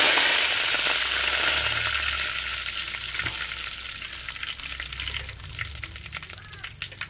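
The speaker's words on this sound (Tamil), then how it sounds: "கருவேப்பிலை போட்டுக்கிறோம்." Curry leaves sizzling in hot oil while a Tamil-style fish curry is made, a loud steady broadband frying hiss that eases slightly over time, close by with faint stirring clicks.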